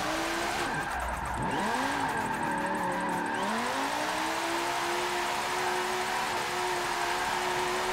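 A V10 limousine engine in Forza 7 revs and wails while drifting, the pitch sweeping down and up through gear changes, with faint tire squeal under the steady roar; no talk.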